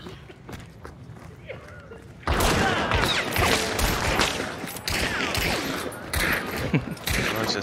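Gunfire in the video game Hunt: Showdown with a Lemat carbine: quieter shots and footsteps, then a dense, loud stretch of rapid gunfire bursts, with voices talking over it.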